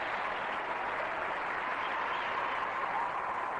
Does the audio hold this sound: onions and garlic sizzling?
no